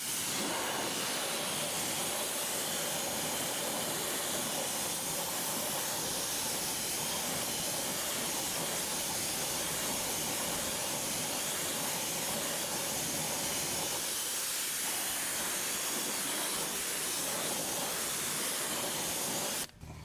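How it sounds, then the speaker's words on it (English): A water hose rinsing a car's front wheel, a loud continuous close-up hiss of spray, steady throughout with a brief dip near the end, no talk. "We'll go over and we'll rinse off the front wheel."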